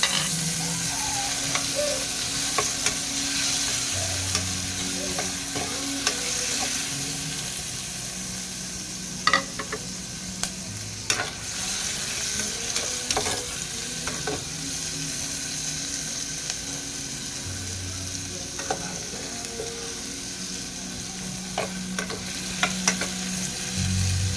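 Tomatoes sauté in a pot for canned mackerel sinigang, giving a steady close sizzle with occasional scraping and stirring sounds throughout.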